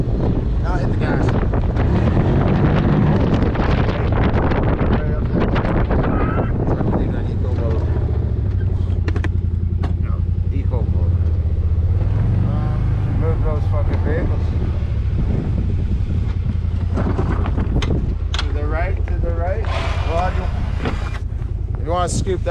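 A Razor side-by-side with a plough blade accelerating on a snowy driveway: a steady, close engine drone that holds loud throughout under wind buffeting, with people talking over it.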